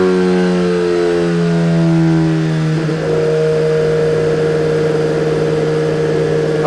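A 2017 Suzuki GSX-R1000 sportbike engine runs on a dyno in fifth gear, a loud steady drone whose pitch slides down and then settles to a lower, even cruising note, with no voices.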